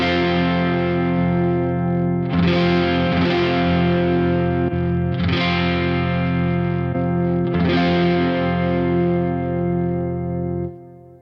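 Distorted electric guitar played through a Soldano SLO mini head with the deep switch engaged, sustained chords with thick low end and a few strummed changes, loud and close, ringing out at the end.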